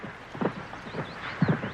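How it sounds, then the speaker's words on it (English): Soft hoofbeats of a horse at a slow canter thud in an easy, rhythmic three-beat pattern, moderately close, with faint background noise and no talking. "We'll start with a slow canter"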